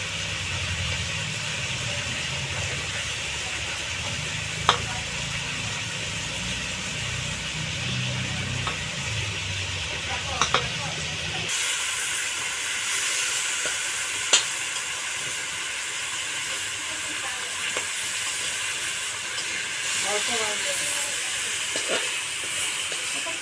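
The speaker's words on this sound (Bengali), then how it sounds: "এখন আমি বাঁধাকপিটাকে সরতে নেব।" Cabbage is stir-fried in a pan, a continuous hiss of hot oil and steam that shifts and brightens midway, with occasional faint clicks of a utensil and no talking.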